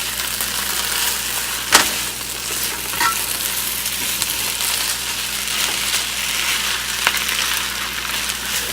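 Rice and vegetables stir-fried in a pan, a steady close sizzle with scraping stirs and occasional sharp utensil clacks against the pan, continuous throughout with no talking.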